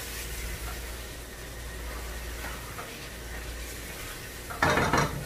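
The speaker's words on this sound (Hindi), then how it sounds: "अब हम इसमें ये जो कबाब मैंने फ्राई करके रखे हुए थे, हम इसमें ये ऐड कर लेंगे। इसको बहुत अच्छे से मिक्स कर लेंगे।" Spoon scraping and clinking in a pot as fried kababs are mixed in, faint steady handling noise ending in a louder burst of scraping.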